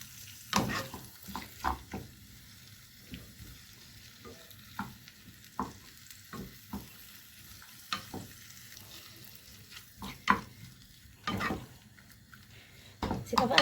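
Liver sautés with green pepper in a pan, a soft sizzle running under repeated sharp clacks and scrapes of a spoon stirring against the pan, quiet and close.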